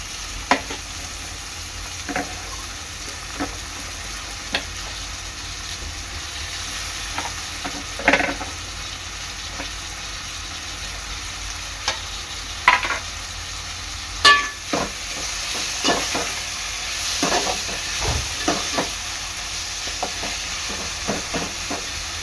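Tomato added to browned onion frying in a pan for Koli-style chicken sukka, with a steady sizzle and scattered sharp clicks of a spoon stirring against the pan, no voices.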